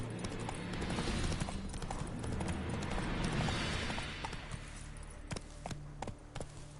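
Roach the horse gallops in The Witcher III on the road toward Novigrad: steady, fairly loud hoofbeats drum along for several seconds, then thin out into a few sharper, more separated clops near the end.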